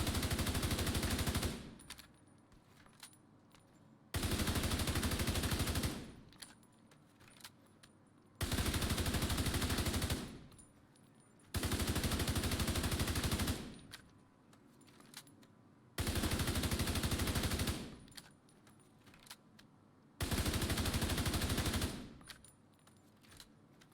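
An assault rifle in a video game fires body shots in six loud sustained bursts of about two seconds each, separated by short quieter pauses in a steady repeating rhythm.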